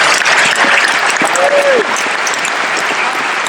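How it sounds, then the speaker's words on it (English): Applause from an audience at the London Doctor Who Festival, steady and loud through the whole stretch, with a voice briefly audible over the clapping. "A real round of applause for Joshua for being there as well."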